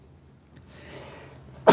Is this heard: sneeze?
yes